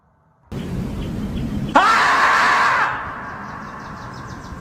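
A child imitates a beaver with a breathy, rough vocal noise that jumps into a louder squealing cry, then trails off into quieter, faint sounds.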